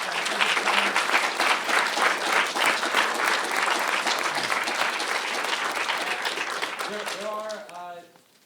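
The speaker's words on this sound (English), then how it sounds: "Please give a round of applause for Barton Swaim." An audience applauds after a talk by Barton Swaim, steady full clapping for most of the stretch that fades out as a voice begins speaking at the end.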